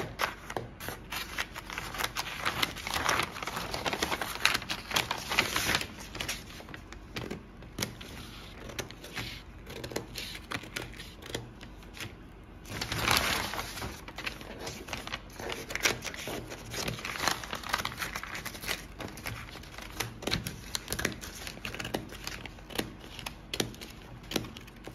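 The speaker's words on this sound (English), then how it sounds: "I just want to cut off the excesses." Scissors snip away excess fabric around a dart while sewing, producing repeated close crisp cuts and rustling of material throughout, at a steady moderate level with no talk.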